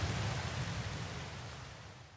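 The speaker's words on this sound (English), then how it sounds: "we had to travel to a planet where it perpetually rains." Constant rain on a perpetually rainy planet in No Man's Sky, a soft broadband hiss with a low rumbling undertone that eases slightly over a couple of seconds.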